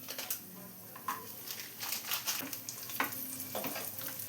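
Cashews and raisins fry in ghee in a pan for banana payasam, a soft steady sizzle with occasional stirring scrapes and light clinks, close and fairly quiet with no talk.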